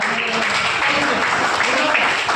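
Audience applause at a school cultural program, a loud, dense and continuous wash of clapping that holds evenly throughout, with voices mixed in beneath it.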